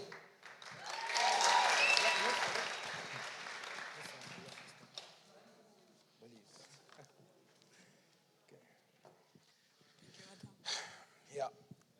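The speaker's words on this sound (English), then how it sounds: "welcome them again with a great applause to the stage" An audience at an honorary commemoration applauds as two hosts return to the stage, a loud burst of clapping that swells early and fades within a few seconds, followed by scattered claps, rustling and quieter murmurs.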